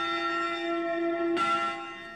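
The bells of St Margaret's Church in Uxbridge ring with a sustained, resonant tone, a fresh strike landing partway through and the chime slowly fading.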